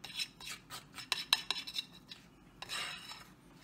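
A fork scrapes and clinks against a bowl while a low carb Christmas treat mixture is stirred and blended, making a quick series of close, sharp metallic taps and rubs followed by a softer scraping swirl.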